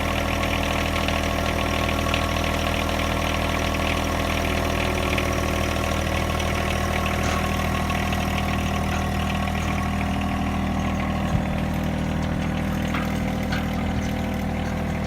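A steady tractor engine idles and rumbles continuously at close range, a low droning hum with no talking.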